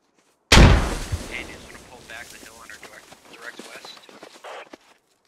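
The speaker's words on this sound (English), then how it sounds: "More Russian grenades come up and over." Russian grenades going off in the video game Operation: Coiled Cobra: one loud, close blast opens, then a tail of scattered thuds and crackles fading out, with voices talking over it.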